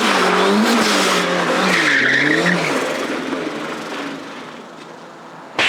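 A Mazda Miata drifts with tires skidding and squealing loudly under engine roar, the screech wavering close up before gradually fading away.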